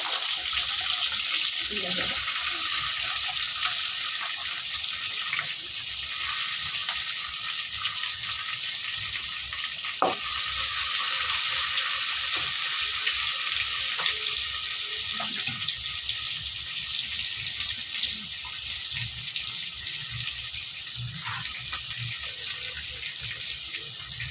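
A large onion sizzles steadily in a pan for salna, a constant broadband frying hiss with occasional stirring scrapes and clinks, close and continuous with no one speaking.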